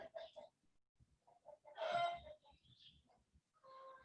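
A rooster crows once in the middle, a short hoarse call that stands out against quiet background chatter and scattered clucking, moderately near.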